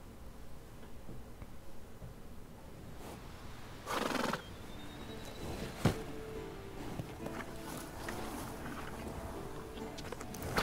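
A horse whinnies briefly amid faint hoofbeats and soft ambient noise, followed by scattered clicks and light clopping, in the video game The Witcher 3: Wild Hunt.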